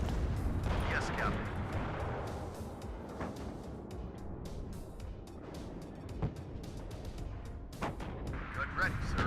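Artillery barrages in the WARNO real-time strategy game, a series of heavy distant booms and rumbling impacts over a steady battle din, with faint voices underneath.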